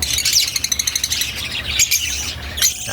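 African lovebirds in a flight cage chirp and squawk in rapid, shrill bursts, close and fairly loud, with no voices.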